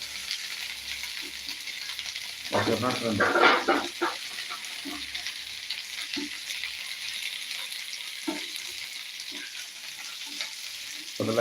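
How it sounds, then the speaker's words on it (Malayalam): Okra and small shallots frying in a pan give a steady, soft sizzle throughout, with a louder burst of stirring and crackle in the middle and a few light scrapes later. "അപ്പോൾ വെണ്ടയ്ക്ക നന്നായിട്ടൊന്ന് മൂത്ത് വരണം അതിൻ്റെ പശ ഒന്ന് ഇളവി മാറണം കേട്ടോ"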